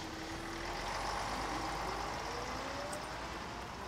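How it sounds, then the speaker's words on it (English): A bus pulls away after passengers step off at a stop, giving a steady, close engine rumble with a rising whine as it accelerates. No one speaks over it. "and the bus drives off."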